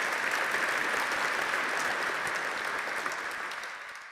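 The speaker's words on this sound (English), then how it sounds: "we can clap for that" Dinner audience at a boys' K-5 school gala breaks into dense, steady applause from a large crowd, holding strong before tapering slightly toward the end.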